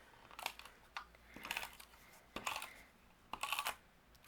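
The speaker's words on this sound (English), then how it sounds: "we're going to go ahead and add some adhesive behind there using our tape runner" Tape runner pressing adhesive onto brown cardstock for a handmade card: four soft, rasping bursts at a steady rhythm, close and quiet, with no talk.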